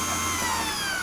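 A chainsaw sharpening motor drives a simple four-facet drill sharpener, making a steady high whine with a constant hum beneath it. The motor runs continuously and close by, with no one talking.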